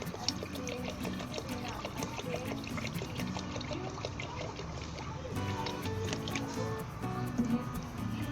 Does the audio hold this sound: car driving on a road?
no